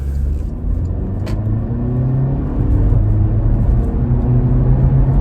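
A 2018 Porsche Macan pulling away under light throttle, its engine a low rumbling drone that swells gradually as it accelerates, heard from inside the cabin with no talk.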